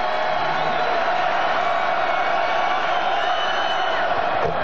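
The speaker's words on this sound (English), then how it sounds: "Howard Moore, the crowd pleaser. They do like him here" Basketball crowd at a 1995 Penn State at Wisconsin college game roars in a steady, loud wall of cheering that fills the whole stretch without a break.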